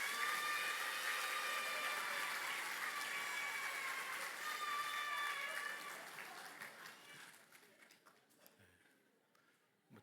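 A church congregation at an all-generation service applauds to welcome the pastor, the clapping blending with a sustained tonal sound before thinning out and fading to near silence.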